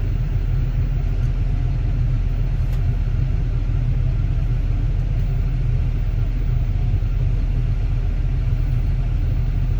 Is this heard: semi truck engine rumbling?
yes